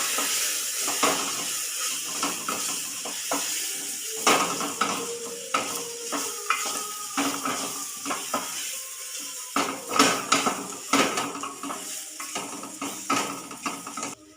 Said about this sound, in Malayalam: ഇതെല്ലാം കൂടി നമുക്ക് നന്നായി ഇളക്കാം.